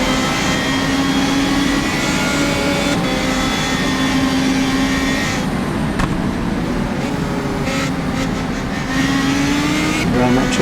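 A Radical race car engine in the rFactor2 racing game drones loudly and steadily, pitch rising and falling through gear changes, with someone talking over it throughout.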